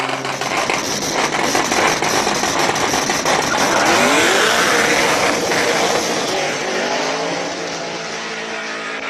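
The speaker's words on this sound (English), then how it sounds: "On the line now, we've got a 350Z with the LS power." A Nissan 350Z fitted with an LS V8 engine launches at a hill climb, its loud, deep engine roar building as it accelerates away from the line and then fading into the distance.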